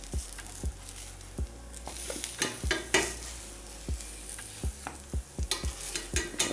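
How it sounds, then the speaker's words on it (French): Aubergines frying in a hot pan, with a steady sizzle under repeated sharp clacks and scrapes of a utensil stirring and turning the pieces, close and moderately loud, with no talking. "Maintenant que notre poêle est bien chaude, on va pouvoir venir y mettre nos aubergines pour venir les faire colorer."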